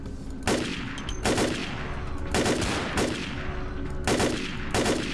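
Gunfire in the video game Vampire: The Masquerade Bloodlines rings out as six loud, close shots at uneven intervals, each a sharp crack with a short tail over steady game ambience.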